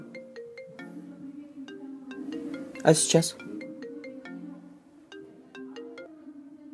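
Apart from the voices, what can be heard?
phone ringtone, incoming call ringing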